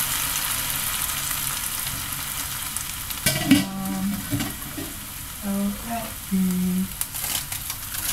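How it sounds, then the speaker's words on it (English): Cabbage sizzles as it is stir-fried in a pan for a vegetable curry, a steady hiss with scraping and clattering stirring strokes in the middle and later part, up close. "I've been stirring, and as you can see, the cabbage has cooked down a little bit."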